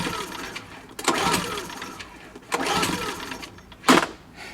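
Small gasoline generator engine, a $25 store-bought unit, cranking over without catching: three bursts of recoil pulls with the motor turning briefly, each dying back to quiet, close and moderately loud.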